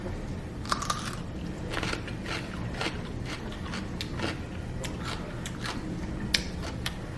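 Crisp bites into a pickle followed by wet, crunchy chewing: a run of sharp crunches up close over about seven seconds, with no talking.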